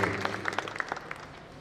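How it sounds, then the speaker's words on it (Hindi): Crowd applause at an evening honoring Devaharam contributors, a steady wash of many hands clapping with scattered sharper claps, moderately distant and fading slightly toward the end. "मैं इन दोनों को तहे दिल से आप सबकी ओर से जोरदार तालियों से अभिनंदन करता हूँ।"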